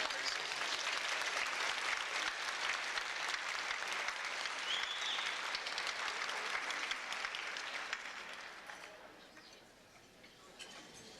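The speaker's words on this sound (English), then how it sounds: "can we have a round of applause for the Mickey Greco Quartet and the Summer Tracy?" Banquet crowd applauding the Mickey Greco Quartet, a dense steady wash of many hands clapping that holds strong for about eight seconds, then tapers and thins toward the end.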